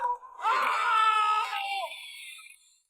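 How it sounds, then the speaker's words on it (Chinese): Riders shriek and wail together on a swinging pendulum amusement ride in a film scene, a loud rising chorus of screams that holds for about two seconds and then fades away. "别人被吓得哇哇大叫"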